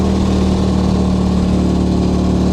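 A motorcycle engine labouring under load as it climbs uphill on a ride toward Kaybiang Tunnel in Cavite, a loud, steady droning hum close by, with no talk.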